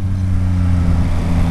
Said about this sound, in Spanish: si abro brusco, la moto pues pega un tirón